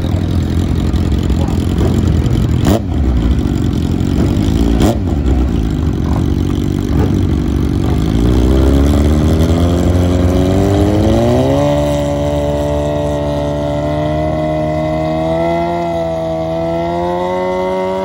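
Nitrous drag racing vehicle launching hard and running down the strip, a loud sustained engine roar whose pitch climbs in steady harmonic sweeps as it pulls away, with brief sharp transients near the start.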